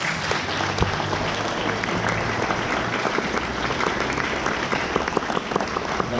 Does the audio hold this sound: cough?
no